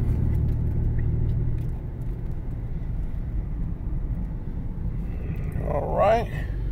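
2000 Nissan Pathfinder V6 cruising around town, a steady low engine and road rumble heard from inside the cabin, with a brief rising whine near the end.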